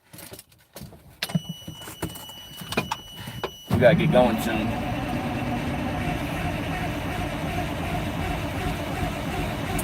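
Detroit diesel engine in a dump truck cranking and catching after some clattering and jangling, then settling into a loud, steady rumbling idle close by, with a voice briefly speaking over the start.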